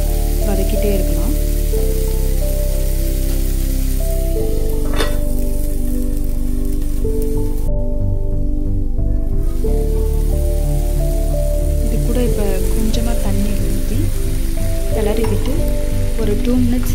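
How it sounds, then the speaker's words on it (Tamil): Tomatoes sautéing in a pan for instant tomato rice made from leftover rice: a loud, continuous close sizzle with crackling spatters and occasional stirring, over a steady tonal background hum. "டொமேட்டோ நல்லா ஜூஸியாக வர அளவுக்கு இதை வதக்கிட்டே இருக்கலாம்."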